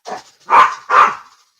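A dog barks three times, loud and close: a short first bark, then two fuller, longer barks in quick succession, with no other sound around them.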